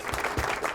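Brief applause for a guest on a running podcast, a close, dense burst of clapping with a few sharper claps standing out in a short flurry.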